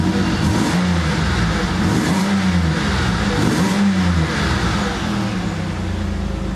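A 2007 Chevy Impala engine idling and being revved, with several smooth rises and falls in pitch over a steady running note, heard close and moderately loud with no talking.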